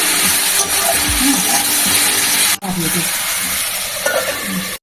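Vegetables such as pointed gourd sizzling and frying in a pan while being stirred, a loud continuous hiss with scraping and rubbing of the spoon, briefly cut off midway, with no talk over it.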